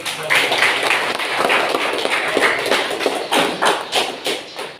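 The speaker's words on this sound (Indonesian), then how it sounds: "Kita tepuk tangan dulu" Classroom audience clapping during a teaching practice session, a fairly loud, dense patter of claps that swells and then thins into a few scattered final claps.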